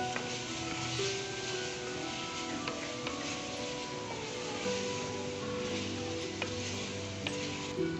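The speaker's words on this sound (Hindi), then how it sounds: "अब हम इसको अच्छे से मिक्स करेंगे और मसाला जात के साथ भी अच्छे से फ्राई करेंगे" Mutton keema frying with spices as it is stirred, a soft even sizzle running throughout with faint scraping and occasional light clicks of the spoon against the pan, quiet and close.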